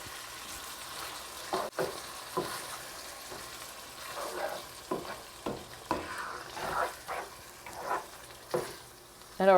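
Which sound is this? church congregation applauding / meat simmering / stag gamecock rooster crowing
meat simmering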